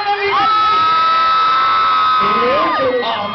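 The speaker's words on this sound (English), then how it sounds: "great, big screaming cheer? Because it's Christmas coming," At a Christmas lights switch-on in Lichfield, a large crowd of mostly young voices erupts in loud, sustained screaming cheers that hold steady for a few seconds before breaking into ragged whoops.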